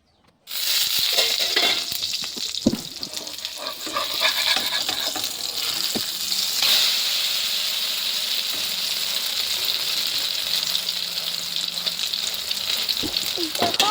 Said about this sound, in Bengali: ভালো করে ভেজে নেওয়ার পর উঠিয়ে নিব